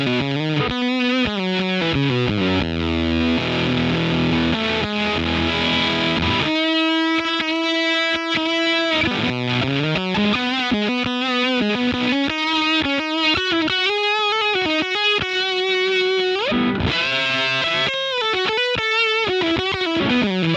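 An electric guitar plays continuous riffs and sustained notes through a vintage germanium fuzz pedal with a buffer before it, a thick, buzzy fuzz distortion, loud and up front.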